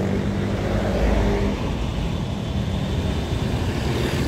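A bus, apparently a new Legend Sumbar Gumarang Jaya Mercedes-Benz MB1626 automatic, rolls into the terminal with a broad steady engine and road roar, loud and close, slightly heavier in the first moments before settling.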